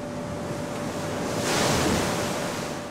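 Wind and ocean surf along the icy Greenland coast roar as a steady broadband wash, with a wave swelling louder midway before easing off.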